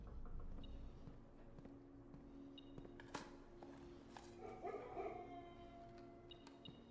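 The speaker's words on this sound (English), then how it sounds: "I hear them dogs a-barking." Dogs barking from a kennel in the video game Blue Prince, a few scattered distant yips and barks over steady low ambient game music and hum.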